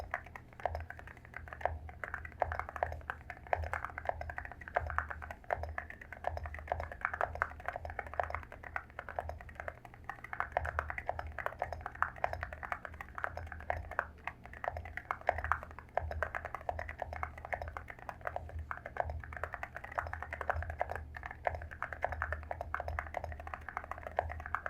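A Monsgeek M1 V3 mechanical keyboard is typed on continuously, producing a fairly quiet, steady stream of muted key clacks with even rhythm and no talking.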